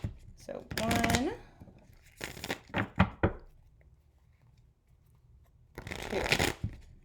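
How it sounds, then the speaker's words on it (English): Tarot cards shuffled by hand in repeated riffling bursts, close and crisp, with someone speaking between and over the shuffles. "Let's do 2 shuffles and then 3 cuts."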